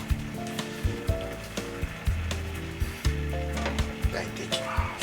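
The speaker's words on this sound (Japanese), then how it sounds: "これはもうフライパンで焼いていきましょう。" Minced meatballs frying in an oiled pan over low heat: a steady soft sizzle with scattered crackles and occasional clinks of a utensil, close and moderately quiet, with no talk.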